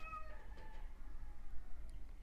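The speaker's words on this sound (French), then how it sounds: "ok, mon chat qui miaule" A house cat lets out a short meow at the start, faint and somewhat distant against a low indoor rumble, followed by quiet room noise and a brief sharp sound at the end.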